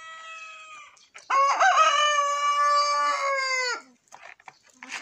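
A rooster lets out one long, loud crow nearby, with a few short clucks from hens before and after.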